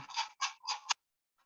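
Four quick rattling shakes, crisp and close, in a short burst followed by silence and a faint last rattle.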